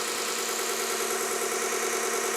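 A Vevor 1x30 belt grinder motor runs steadily at speed, a constant loud whirring drone with no pauses or speech.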